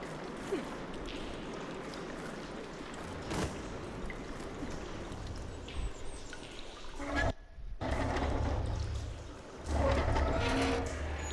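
Water flowing through pipes in the video game Horizon Forbidden West, a running, pouring rush that continues for several seconds, breaks off briefly, then returns louder.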